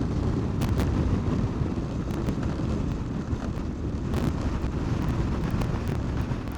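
Strong wind buffets the microphone outdoors on a Lake District road trip, a steady loud roar with deep rumbling gusts that swell and ease throughout, with no one speaking.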